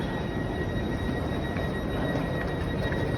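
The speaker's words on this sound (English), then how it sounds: "And that's a local train over there." Train at a German station platform, with a steady low rumble of rolling stock and faint high metallic whine, broad continuous station ambience with no talk.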